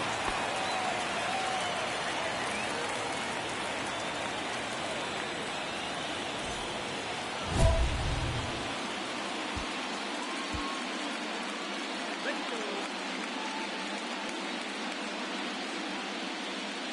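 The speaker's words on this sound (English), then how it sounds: "This rain is not letting up." Rain falls steadily over a baseball game in the MLB The Show 24 video game. The wash of noise is constant and even, with a brief low thump partway through.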